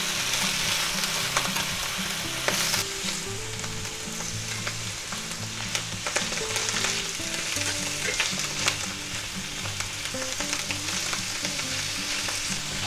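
Steady close sizzling of mushrooms and garlic frying in a pan, with occasional scraping stirs and soft music playing underneath.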